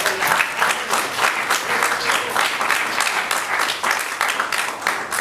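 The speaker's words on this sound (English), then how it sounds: "Another round of applause for Noah Phillips." Sustained applause from an audience at an evening event on reforming prosecution, honouring a speaker, dense steady clapping throughout, loud and close, with no talk over it.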